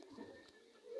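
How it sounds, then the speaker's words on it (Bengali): Pet pigeons at home give soft, low cooing that runs steadily through the whole second, close by and fairly quiet. "এখানে আমার কিছু কবুতর আছে"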